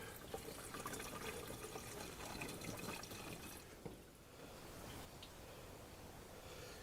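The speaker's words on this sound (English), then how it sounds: "I'll dump a little water in the reservoir" Water splashes and pours steadily into the coolant reservoir of a 1997 Ford Ranger for a few seconds, then eases off into a softer trickle.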